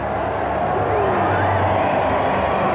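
A cricket crowd on a grassy embankment at a one-day international in Wellington cheers loudly and steadily, a dense roar of shouts and whoops that swells without letting up.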